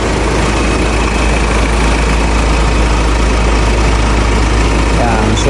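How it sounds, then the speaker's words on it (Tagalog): A Ford Everest Titanium 4x2 diesel engine idles with a steady, loud low rumble, heard up close and unbroken throughout. "Mapapansin nyo, diesel engine siya, pero napakatahimik."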